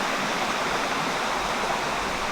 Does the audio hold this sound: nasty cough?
no